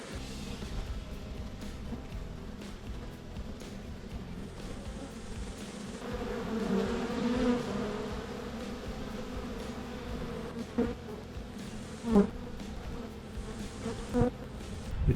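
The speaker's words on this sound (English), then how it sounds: "I'm helping a few of the bees find their way into the hive." A dense, steady buzz of a honeybee swarm humming close by as it moves into a hive box, swelling slightly midway, with a few louder passes near the end.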